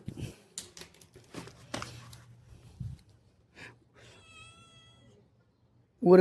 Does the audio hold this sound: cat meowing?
yes